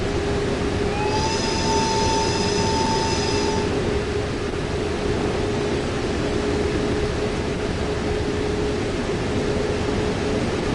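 A locomotive in Train Sim World 6 runs with a steady loud rumble and a constant hum, with a brief high whine or squeal early on before settling into an even, unbroken drone.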